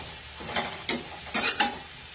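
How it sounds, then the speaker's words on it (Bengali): Eggplant fries in a pan: a soft sizzle runs throughout, broken by four short scraping stirs of a spatula at close range. "দেখো আমি বেগুনটাকে এইভাবে ভেজে নিচ্ছি"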